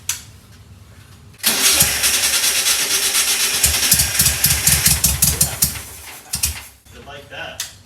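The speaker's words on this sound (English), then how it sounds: "Let's see if we can get it to run with that carburetor." A VW Beetle engine, freshly tuned with its original carburetor, cranks with rapid pulsing starter chugs and catches into a loud, rough idle, close by, with a voice briefly audible.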